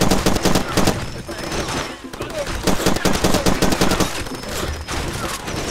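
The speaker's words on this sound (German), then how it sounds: "Die Schüsse müssen viel besser sitzen, wenn uns noch keiner bemerkt hat." Dense gunfire in the video game Far Cry 2, rapid automatic bursts and overlapping shots crackling almost continuously, loud and close, with brief dips between volleys and a voice talking underneath.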